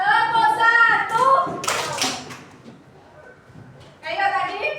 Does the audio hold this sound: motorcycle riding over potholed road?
no